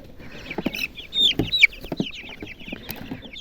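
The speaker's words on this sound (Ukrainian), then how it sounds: "Да, ципки." Young chicks cheeping up close, a run of high, quick peeps and soft clucks scattered over a few seconds with light handling noise in between.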